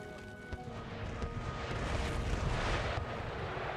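Artillery shells strike a command HQ in Empire: Total War, giving a continuous rumbling barrage of dull booms and crackling impacts that swells louder over the few seconds, with battle noise filling the background.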